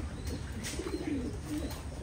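Thai Titan pigeons, a large meat breed, giving soft, low cooing calls in a couple of short bursts, close by over a faint background hum, with no talking.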